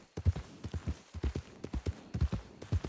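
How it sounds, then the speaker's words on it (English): Horse hooves clip-clop in a steady, even rhythm of distinct, fairly close strikes, with no voices. "I have like 4 different horses I ride."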